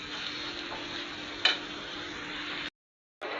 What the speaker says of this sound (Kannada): ಇವು ಚಲೋ ಹೊತ್ನಾಗ ಫ್ರೈ ಆಗಲಿ.